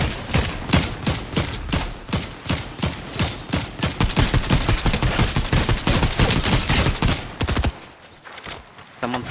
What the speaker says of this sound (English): Shots being fired up ahead.